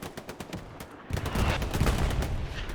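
Machine gun fire from a Hell Let Loose-style Hill 400 match crackles in sharp bursts, sparse at first, then dense and loud as rapid automatic shots pile up near the listener.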